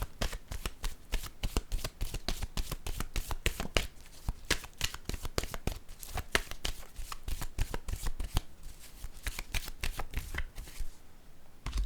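Tarot cards are shuffled briskly for a reading, a steady close run of rapid riffling slaps that continues for the whole stretch with hardly a pause and no voice over it.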